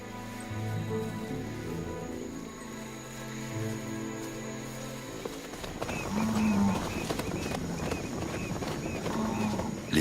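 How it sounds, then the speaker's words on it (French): Nervous cows moo in low, drawn-out calls, then hooves shuffle and more lowing rises later, all fairly close, with no speech. "Les vaches sont nerveuses."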